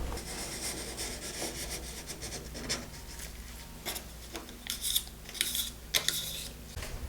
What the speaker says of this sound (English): it's a safety razor, and it takes it right down to the surface of the countertop here